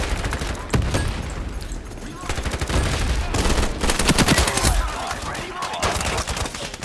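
VSS rifle fired from the hip in the shooter game Ironsight, rapid loud bursts of suppressed shots in repeated strings with short gaps between them, no talking.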